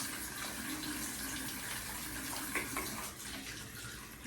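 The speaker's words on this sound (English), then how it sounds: "Let me wash my hands real quick." Tap water runs steadily while hands are washed under it, a continuous close splashing rush with brief louder splatters midway, no talking.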